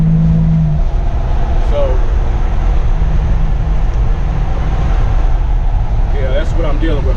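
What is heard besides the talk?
turbocharged Buick Grand National on a test pass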